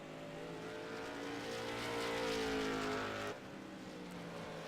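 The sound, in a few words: race car coming around the track at Stafford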